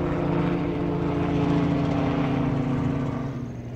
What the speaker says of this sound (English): We've got a helicopter coming by the sounds of it.